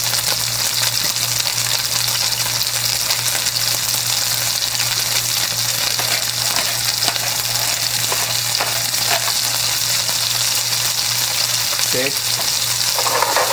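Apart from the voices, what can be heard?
garlic shrimp with black bean sauce frying in pan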